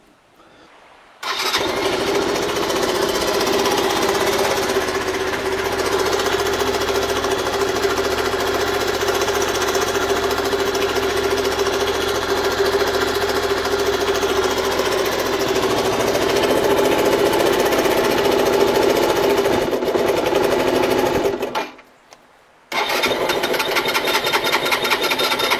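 A Suzuki DR125 motorcycle with a new battery starts and runs at a loud, steady idle for about twenty seconds, then cuts out briefly and catches again, with no talking.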